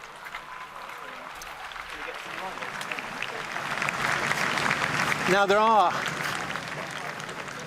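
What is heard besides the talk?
crowd applauding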